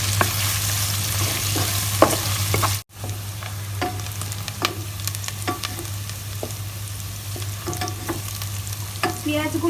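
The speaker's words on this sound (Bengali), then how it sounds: "এরপর আমি এটাকে হালকা বাদামি করে ভেজে নেব।" Sliced onions and half a head of garlic frying in a pan, a loud close sizzle broken by repeated spatula scrapes and clacks, with a low steady hum underneath and a brief dropout early on.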